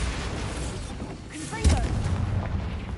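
A Bombarda explosion spell in the game Hogwarts Legacy lands as a low boom partway through, rumbling on afterward beneath a voice speaking amid background game noise.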